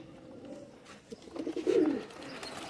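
Teddy breed pigeons coo nearby, a low, throaty cooing that builds in the second half of the short stretch over a soft background murmur.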